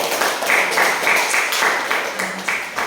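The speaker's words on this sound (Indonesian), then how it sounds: "Baik, tepuk tangan dulu untuk hari ini." A classroom of students claps together at the end of a chemistry lesson, giving a dense, steady patter of many hands that stays fairly loud throughout, with no talk over it.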